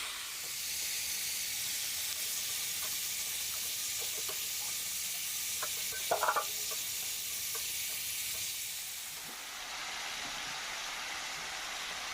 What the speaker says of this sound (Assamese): এতিয়া পিঁয়াজখিনি দি দিলোঁ।